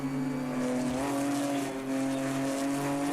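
Race cars in a video game at Bathurst drone steadily past, tonal engine notes holding with slight pitch shifts and a faint tire squeal, loud and close throughout.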